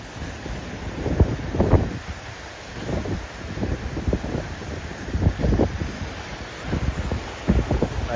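Strong seaside wind in Vung Tau buffets the microphone in loud, uneven gusts, with surf rumbling beneath the roar; no one speaks.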